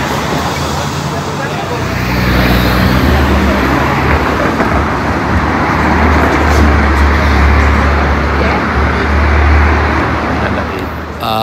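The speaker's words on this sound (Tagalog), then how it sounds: "Ito yung mga magaganda dito ng mga sasakyan." Cars pass along a busy street in Zürich, Switzerland, a loud continuous roar of road traffic swelling and easing without breaks, heard close up from the pavement.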